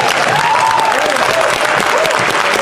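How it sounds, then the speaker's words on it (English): Dense, steady applause from a town hall crowd fills the whole stretch, loud and continuous, with faint voices mixed into the clapping. "he gets applause"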